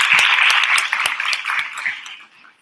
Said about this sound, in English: if everyone wants to just give her a clap